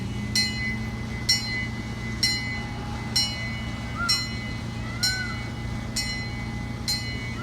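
Titus Express zoo train at Dickerson Park Zoo in Springfield, Missouri, rolling along with a steady low rumble and regular clacks of the wheels over rail joints, about one per second.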